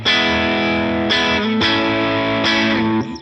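Sustained distorted electric guitar chords ringing out through a Line 6 POD Go amp model with reverb, with a few chord changes and a lingering reverberant tail before it cuts off.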